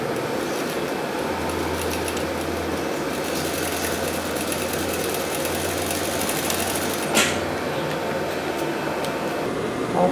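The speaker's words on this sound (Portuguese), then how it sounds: "Costurando." A sewing machine stitches the collar of a plaid button shirt in short runs, its low motor hum and rapid needle chatter starting and stopping in bursts over a steady room background, with no talking.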